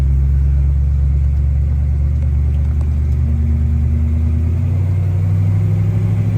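A 1969 Oldsmobile Cutlass convertible with a T350 transmission drives and shifts through gears, its loud, deep engine rumble climbing in pitch, then dropping as the next gear engages near the end.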